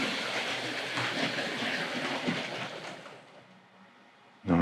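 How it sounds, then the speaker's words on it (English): Continuous rattling rumble of a small Hornby Dublo model train running along its track, fading off as it slows, then a sudden knock at the end. "I'm just going to give this Pullman train a bit of a run"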